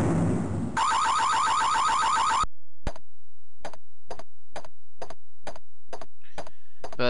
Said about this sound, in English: we have to shut the alarm off once more